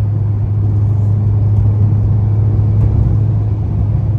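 A car engine hums with a steady, loud low drone throughout, a constant rumble with no clear rise in pitch.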